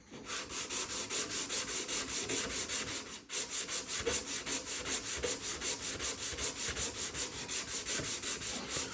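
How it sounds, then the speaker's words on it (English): Hand sanding of a wood veneer boat surface with 180 grit sandpaper, close, quick rhythmic back-and-forth rubbing strokes that continue steadily, with one brief pause, and no talk. "Starting out with 180 grit, and then I will move to 220, and then I'll move to 320."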